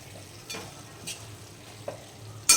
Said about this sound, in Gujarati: ટમેટા એડ કરીને આપણે મિક્સ કરીશું